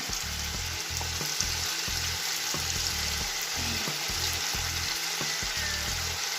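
Garlic sizzles steadily in a frying pan for poulet basquaise, a continuous close crackle with a faint rhythmic scraping as it is stirred, no talking.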